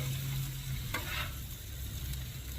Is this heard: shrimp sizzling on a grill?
yes